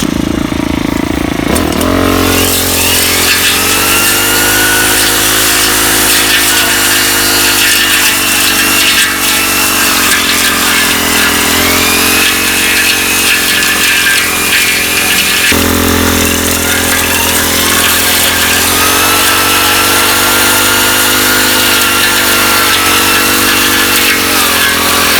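A string trimmer fitted with a Dragon Claw trimmer head runs loud and close, its engine buzzing at a high, steady pitch after a quick rev-up, with a slight shift in tone midway.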